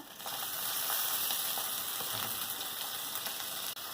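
A tomato is added to a hot pan of oil and grated onion, with a loud, steady, bright sizzle. A brief stir is heard near the end. The frying runs continuously with no talk.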